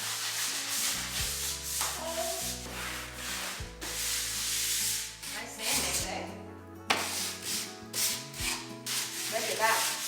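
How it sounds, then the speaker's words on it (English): A wall being sanded smooth during a breakfast nook makeover, with continuous close rubbing strokes mixed with clunks and tonal background sounds, no talk. "we're gonna do some sanding"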